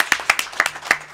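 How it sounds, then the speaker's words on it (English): Sparse applause from a small conference audience at an African Union report launch: a handful of distinct, irregular hand claps spread across a second, fairly close and moderately loud. "I think that deserves a round of applause"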